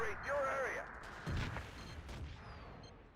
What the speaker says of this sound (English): Artillery from Existence coming back on the construction site.